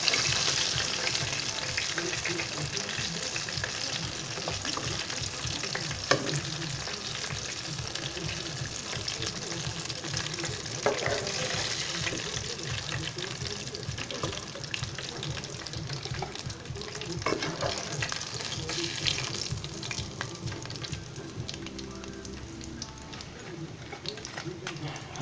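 Catfish pieces frying in a pot of hot oil, a dense steady sizzle and bubbling that continues throughout, with a voice talking over it at times.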